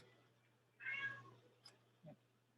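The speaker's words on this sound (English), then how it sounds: "I'm not sure if you can hear my cat meowing" A single cat meow, rising and falling over about half a second and somewhat distant, followed by a couple of soft knocks in a quiet room.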